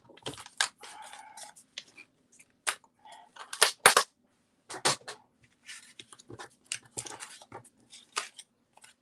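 A card is cut by hand, giving a run of short, crisp snips and rustles that come in uneven bursts, close by and alone with no talking.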